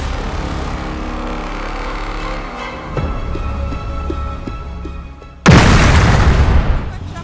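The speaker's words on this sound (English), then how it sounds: "LTTE terrorists launched a suicide bomb attack near the central bank in Colombo" A suicide bomb explosion near the central bank in Colombo: a sudden loud, broad blast erupts after a stretch of rumbling background with faint voices, then roars on heavily to the end.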